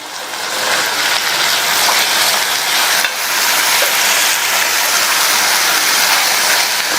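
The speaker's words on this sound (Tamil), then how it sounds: "இந்த பீன்ஸ் வெங்காயத்தோட சேர்ந்து 2 நிமிஷத்துக்கு வதங்கட்டும்" Green beans with onion, garlic and chopped tomato sauté in a pan for a Tamil chapati side dish, giving a steady, close sizzle that holds for several seconds with no talking.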